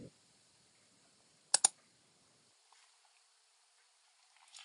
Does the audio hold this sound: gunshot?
no